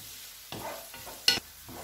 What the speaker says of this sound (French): Voilà mes oignons que je suis en train de cuire doucement.